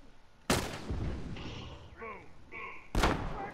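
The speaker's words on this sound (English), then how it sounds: "Look at that bomb I just threw." A thrown bomb exploding in a video game: two sharp, loud blasts about two and a half seconds apart, with a voice speaking between them.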